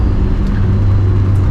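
A BMW 2002 Turbo drives along a mountain road. Its engine drones loud and close with a steady low tone, heard from inside the car with no voices.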